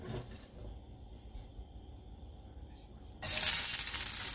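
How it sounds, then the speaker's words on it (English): A loud, sudden sizzle erupts after quiet kitchen sounds as garlic drops into hot oil and keeps frying steadily up close. "So now the oil hot, I'm gonna start by frying the"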